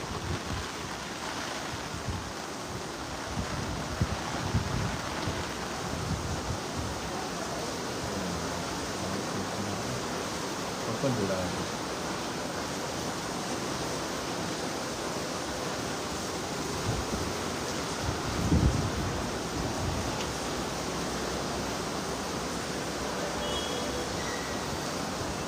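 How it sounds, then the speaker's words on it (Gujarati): Heavy monsoon rain pours steadily in Vadodara while wind blows, a dense, unbroken roaring hiss that holds at an even level throughout, with a few brief gusty swells. "હાલ પવન સાથે વરસાદ વરસી રહ્યો છે,"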